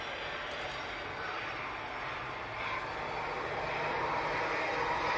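An Etihad airliner makes a long landing roll-out, giving a broad, steady engine roar that builds slightly. It plays alone, with no talk.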